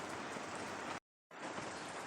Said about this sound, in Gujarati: અમારે પણ આજે વરસાદ ચાલુ જ છે પણ બહુ નથી ધીમી ધારે વરસાદ ચાલુ જ છે